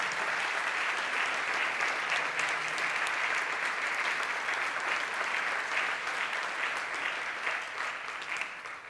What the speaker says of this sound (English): Please, a round of applause for these amazing people helping this association.